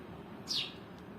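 A sparrow that has come inside a house gives a single short, faint chirp over quiet room noise.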